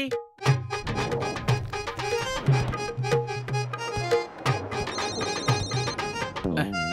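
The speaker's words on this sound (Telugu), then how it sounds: "ఈ ఫోను మళ్ళీ మోగుతోంది" A phone ringtone plays in an animated cartoon scene, a busy melodic electronic tune ringing over layered background music and effects, loud and continuous throughout.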